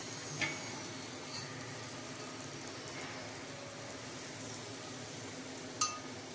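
A chapati cooks with oil on a hot pan, giving a steady soft sizzle that runs unbroken at low level, with a couple of faint clinks, close by and no talk.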